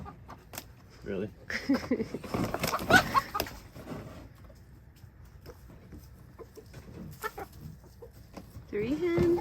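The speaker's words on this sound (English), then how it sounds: "We got a mad rooster." Backyard chickens, a rooster and several hens, cluck and squawk at night while being moved, in irregular bursts of loud, close clucking between quieter gaps, with people talking nearby.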